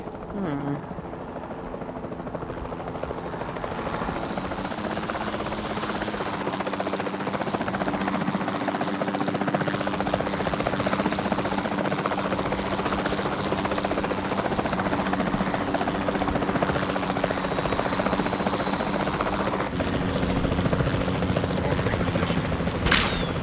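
A capture team helicopter in the video game Jurassic World Evolution 2 drones steadily with a loud, continuous rotor buzz throughout, with a voice speaking over it at times.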